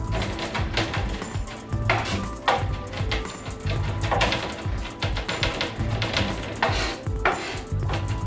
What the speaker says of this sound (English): So I'm going to just mince this up.